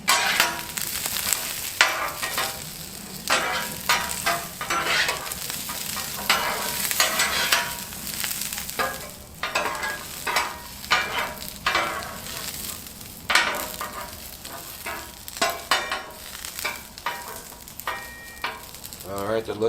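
Mushrooms fry on a Blackstone griddle under a steady sizzle, with repeated scraping strokes of a spatula stirring them, loud and close, some clattering bursts throughout.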